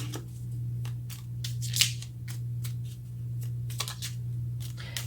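A tarot card drawn from a deck and handled, giving quick papery snaps and rustles close up over a steady low hum, with one sharper slap partway through.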